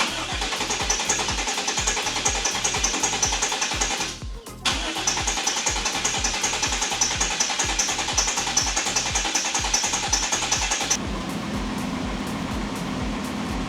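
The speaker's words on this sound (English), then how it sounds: "So I tried cranking it maybe 3 or 4 times" A 1999 Chevy Tahoe that sat for 12 years cranks over without starting, the starter chugging in a steady, rapid rhythm, pausing briefly, then cranking again before settling into a lighter whir, close and loud.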